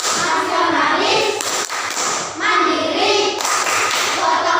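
A classroom group performs the PPK clapping routine during a teaching session, with rhythmic, fairly close hand claps and thuds alternating with voices chanting in unison.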